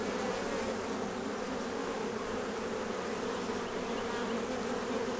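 Honey bees buzz around an open hive during a spring inspection of a package colony, a dense, steady swarm drone filling the background without pause, with no talking.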